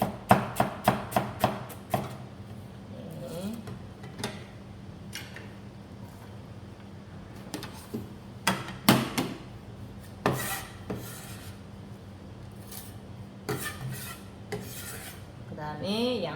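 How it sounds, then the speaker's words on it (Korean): A knife slices cabbage into thick strips on a board, giving a fast run of crisp, regular chops at first and then scattered, slower cuts with quiet gaps between them. "양배추, 약간 굵게 채를 썰으시면 됩니다."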